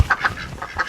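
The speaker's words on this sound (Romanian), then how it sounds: "Deci avem 3 rațe." Ducks, three of them kept among rescued wild animals, with fowl including a rooster, give a few short nasal honking calls close by, in quick bursts with pauses between.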